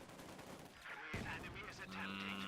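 Rifle grenade fired in the video game Company of Heroes 2 amid a battle, with a sharp burst of gunfire and a blast among rattling weapons, faint and under a commentator's voice.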